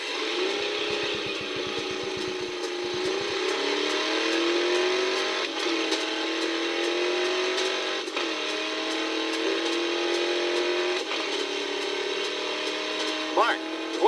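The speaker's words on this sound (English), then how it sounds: "You will run a series of standing quarter-mile runs." A 1970 Dodge car accelerates hard from a standing start on a quarter-mile run, engine rising in pitch through successive gear changes, loud and sustained.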